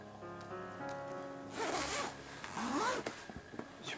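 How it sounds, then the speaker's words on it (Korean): A yellow zipper on the gray cover of a Balance Doctor posture seat cushion is pulled open in a few close, quiet, raspy strokes, alone, with no talking. "위아래는 모두 회색에 노란색 지퍼가 달려 있습니다."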